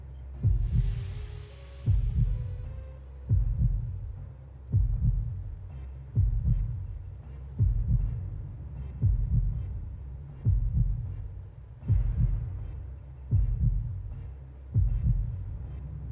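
A steady heartbeat sound effect from the Final Fantasy 7 video game, with regular double-thump beats about every one and a half seconds, low and throbbing, running alone without talk.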